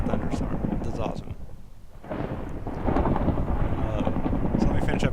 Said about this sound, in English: it started raining and thundering. That is a thunderstorm.